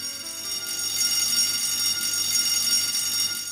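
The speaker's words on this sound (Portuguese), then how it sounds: "Isto é um alarme de incêndio." A school fire alarm bell rings in a Portuguese-dubbed children's cartoon as a loud, continuous metallic clanging that fills the room without pause for several seconds, with no voices over it.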